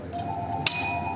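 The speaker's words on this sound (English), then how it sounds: "And then I'm gonna ring the bell to start" A small hand bell is rung to start a spicy Malaysian laksa noodle-eating challenge in Darwin: a light ding, then a sharper, louder strike whose metallic ring hangs on. No one talks.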